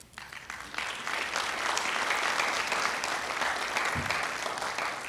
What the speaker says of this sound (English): we'll give you one big round of applause